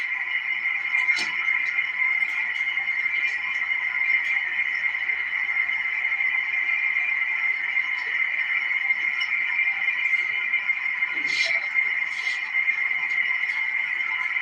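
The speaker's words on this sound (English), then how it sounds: "A bunch of static and a dead band" Steady radio static from a receiver as antennas are switched between horizontal and vertical, a constant hiss with brief crackling bursts and no speech.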